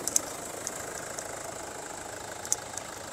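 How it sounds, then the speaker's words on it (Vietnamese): A 2020 Kia Sorento Premium with a 2.2-litre diesel engine idles with its bonnet open, a steady, fairly loud, slightly rough clatter with occasional sharper ticks, close by and with no talking. "Máy dầu thì nó hơi ồn các bạn."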